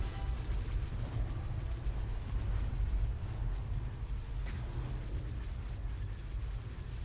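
Starship batteries open fire in a Star Wars space-battle game, a Thrawn's Revenge Imperial campaign, producing a steady, deep rumble of explosions and cannon blasts that rolls on without pause at a moderate level, with no one talking.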